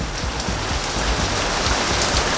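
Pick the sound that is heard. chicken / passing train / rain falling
rain falling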